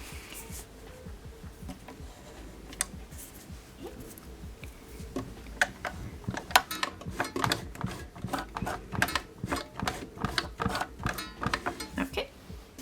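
A sewing machine stitching a zigzag hem on an upcycled thrift garment, its needle running in a steady rapid patter that picks up midway and continues close by, faint handling noises before it starts.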